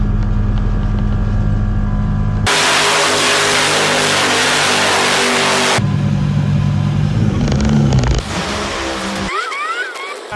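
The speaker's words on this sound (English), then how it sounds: "Just ran the truck down the drag strip and just kind of goofed off and played." A truck accelerates down a drag strip, its engine roaring loud and close with abrupt shifts in pitch and intensity as it pulls away, easing slightly toward the end.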